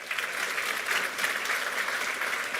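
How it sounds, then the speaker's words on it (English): At the FOGAP 2025 annual day of learning, an audience gives Yolanda a steady round of applause, dense clapping at moderate level with no voices over it. "Can we just give Yolanda a big round of applause?"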